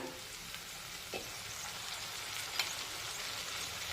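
Capsicum sabzi sizzles in a kadhai as it is turned over, a quiet continuous frying hiss broken by a couple of light spatula taps.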